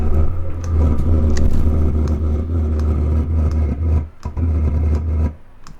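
A van's diesel heater struggling to start, giving a loud, steady low rumble with faint rattling that carries on for several seconds, briefly dips, then cuts out near the end.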